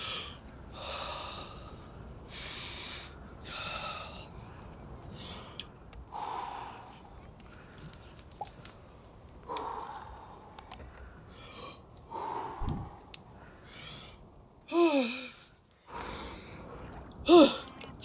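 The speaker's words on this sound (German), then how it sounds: "Tief atmen." Heavy, gasping breaths during cold exposure outdoors: repeated sharp inhales, snorts and forced exhales in an uneven rhythm, close to the listener, with a few strained vocal sounds near the end.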